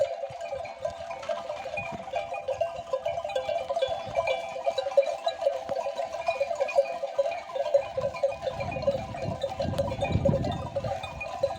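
Sheep and newborn lambs bleat over and over in a busy flock in a highland pasture, some calls near and some farther off, with rustling movement underneath.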